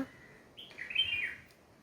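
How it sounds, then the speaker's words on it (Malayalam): An oriental magpie robin sings outdoors, a short clear whistled phrase of rising and falling notes in the middle of the clip, moderately loud over quiet background. "അത് നന്നായി പാട്ടുപാടും ഇതാണ് വണ്ണാത്തിപ്പുൽ കിളി"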